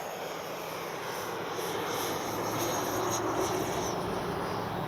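An E-flite 90mm Viper RC jet makes a touch and go, its engine giving a steady, loud rushing whine with a slight rising swell near the end and no talking.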